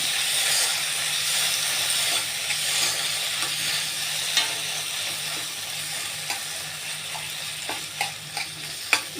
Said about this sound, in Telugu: ఉడికించుకున్న కంద ముక్కలు వేసేసుకున్నామండి వేసుకుని వీటిని ఒకసారి కలిపేసి